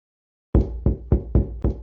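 Five heavy knocks on a door, thudding at an even, insistent pace after a moment of silence, each one loud and close with a short decay.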